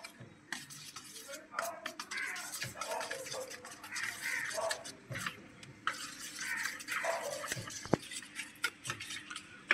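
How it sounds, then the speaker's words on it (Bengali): Spices being mixed by hand with raw mustard oil in a bowl: soft, irregular squelching and stirring sounds with occasional light taps, close and quiet, with no talk. "এবারে সমস্ত মশলাগুলো একসঙ্গে ভালো করে মিশিয়ে নেব।"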